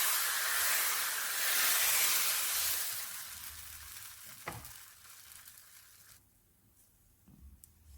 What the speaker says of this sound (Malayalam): നമുക്ക് സാധാരണ ദോശ ചുടുന്ന പോലെ നമുക്ക് ഓരോ ദോശയായിട്ട് ചുട്ടെടുക്കാം